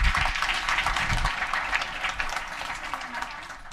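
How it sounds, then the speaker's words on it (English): Audience applause at a GopherFest conference talk, a dense, steady clapping that fills the room and tapers slightly toward the end, with no voices over it. "Round of applause for Matt, please"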